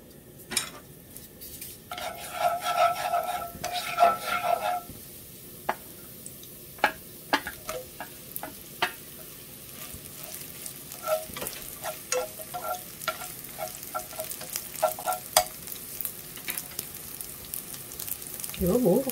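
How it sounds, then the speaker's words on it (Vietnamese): Pickled mustard greens stir-fry in oil with dried garlic in a pan, a steady close sizzle broken by frequent clacking of a utensil scraping and stirring, with a brief voice early on. "Giờ mình xào cải chua nha các bạn."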